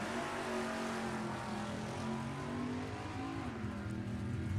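A 1946 Plymouth Coupe makes a nostalgia drag racing run at an NHRA Heritage Series event, its engine a continuous distant broadband roar held at a fairly even, subdued level.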